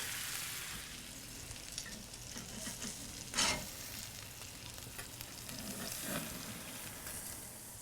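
A burger patty sizzles and fries in a pan alongside bacon and onions, a steady close crackle with a brief louder burst of spatter partway through, no talking.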